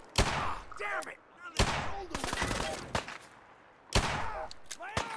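A pistol fires in the video game Fallout 4, with several sharp, loud shots in an uneven rhythm. Other combat effects sound in the gaps between them.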